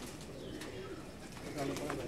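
Teddy Rampuri pigeon cooing softly, low murmuring coos at close range beneath someone talking.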